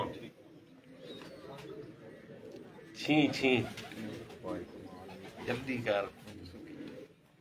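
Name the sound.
pigeons cooing, held by the chairman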